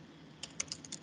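Keys struck on a computer keyboard while working in Premiere Pro, a few close, sharp clicks arriving irregularly in the second half after a quiet start, with no talking.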